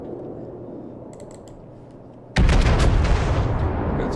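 Heavy naval cannon fire in World of Warships, a sudden loud broadband boom about halfway through that holds a dense rumbling roar, following quieter ambient game sound with faint clicks.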